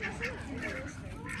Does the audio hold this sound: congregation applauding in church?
no